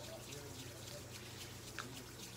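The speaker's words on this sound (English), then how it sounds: "wetting our hands under warm running water" Warm tap water runs steadily over hands being wetted before a lash and brow tint, a faint continuous trickle with a low hum beneath it.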